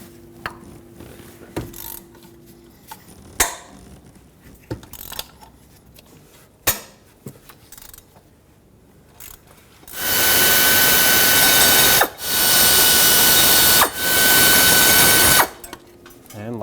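Ratchet clicks and bolt rattles on a 1998-2011 Ford Ranger 4.0L V6 thermostat housing bracket, with scattered sharp metallic ticks giving way to three long, loud, steady bursts of a power tool whirring close by.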